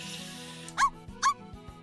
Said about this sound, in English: With a happy bark, Puch began eagerly lapping up the milk from his dish.